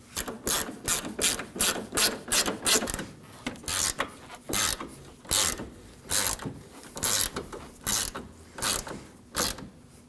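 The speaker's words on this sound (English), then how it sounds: "We'll tighten down our bracket bolts, being cautious not to over-tighten them." A hand ratchet clicks in quick bursts while tightening radiator bracket bolts on a 2013-2015 Subaru XV Crosstrek, about a dozen short rapid runs of pawl clicks with brief pauses, close and clear, no talking.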